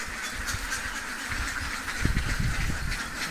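Khaki Campbell ducks on a duck farm, let out into the open, give a cluster of nasal quacks midway over a constant background hum, moderately close, with no talking.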